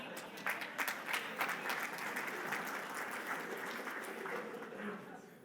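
Audience applause at an economic summit talk, a fairly faint, even patter of clapping from a room of listeners that tapers off slightly toward the end.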